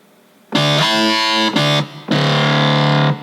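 A buzzy, distorted Sylenth synthesizer factory preset plays three sustained notes in sequence, loud and bright with rich harmonics, separated by brief gaps.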